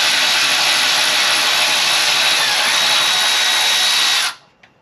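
An electric ratchet whirs continuously in the engine bay of a 2017 VW Alltrack during a turbo and downpipe install, loud and close, then stops abruptly near the end, leaving a faint click.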